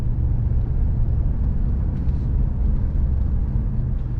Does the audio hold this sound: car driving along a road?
yes